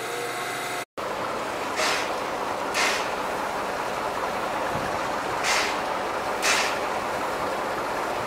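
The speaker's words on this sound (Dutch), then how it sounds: "Zodra de sprinter weg is, komt onze trein er al aan." A train with its locomotive at the rear pulls into a station: a steady rolling rumble with several brief hissing clatters recurring at intervals, no talk over it.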